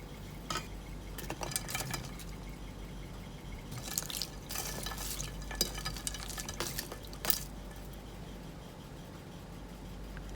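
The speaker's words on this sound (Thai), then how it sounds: "เสร็จแล้วเรานำบัวลอยตักขึ้นมาน็อกในน้ำเย็นค่ะ" Pumpkin bua loi dumplings being scooped out of the hot pot and dropped into cold water: scattered splashes, drips and light clinks of a ladle against a pot or bowl, close and fairly quiet, with no talking.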